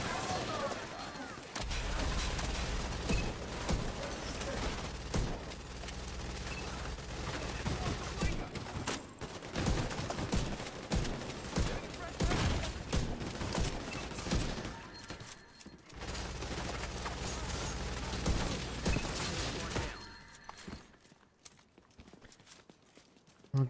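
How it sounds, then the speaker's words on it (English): Lever-action 1886 cowboy rifle fire in The Division 2, a dense run of loud gunshots and impacts amid game noise for about twenty seconds, with a player's voice talking over the action before it drops off. "It's an 1886. Lever action. Cowboy rifle."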